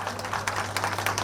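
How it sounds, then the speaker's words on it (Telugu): Steady applause from a gathered audience at an inauguration ceremony for a pyramid meditation centre, a continuous dense patter of many hands clapping, moderately distant. "గట్టిగా చప్పట్లు కొడదాం మిత్రులారా"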